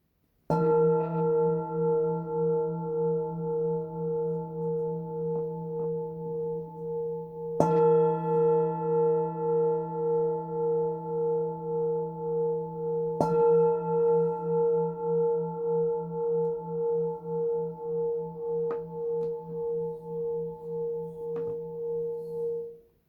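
A carved singing bowl struck three times with its mallet, each strike blooming into a long, steady, shimmering ring with a slow pulsing wobble that sustains between hits.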